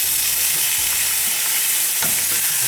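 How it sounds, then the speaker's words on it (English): Food stir-fried in oil in a de Buyer carbon steel pan, a steady close sizzle with scraping stirs, one sharper clatter near the end. "Now we're going to start moving this around a little bit so that it all gets the oil on it."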